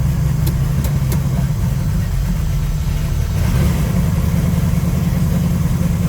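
A 1980 Pontiac Trans Am engine held on a trans brake runs loud and steady with a deep low rumble, its idle mixture set rich, rising slightly in intensity partway through with no talking.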